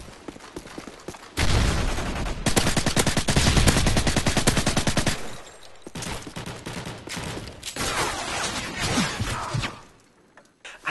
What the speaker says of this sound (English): Check this quality shooting out.